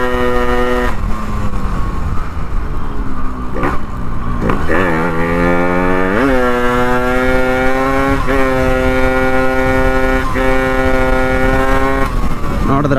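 A Yamaha RX two-stroke motorcycle set up almost for wheelies, its engine loud and close, revving up and down repeatedly with rising and falling harmonic whine over a raspy exhaust buzz.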